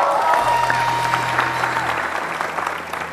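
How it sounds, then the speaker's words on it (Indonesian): Studio audience on an Indonesian comedy television show claps throughout, a moderate, dense patter of hands with a low steady hum beneath it. "Piko, tepuk tangan buat Ferdian."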